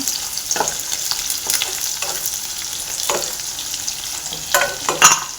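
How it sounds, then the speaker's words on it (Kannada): Cashews and paneer frying over a low flame, a steady close sizzle punctuated by several sharp stirring scrapes and taps in the pan, louder toward the end, with no talking. "ಅದನ್ನು ಚೆನ್ನಾಗಿ ಫ್ರೈ ಹಾಕ್ಬೇಕು ಕಾಜು ಪನ್ನೀರ್ ಎರಡು ಫ್ರೈ ಆಗಬೇಕು"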